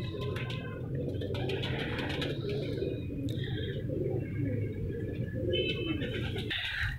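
A female pigeon perched on a border wall outdoors coos in soft, low, repeated calls over a steady background hum, with a few brighter chirps from other birds.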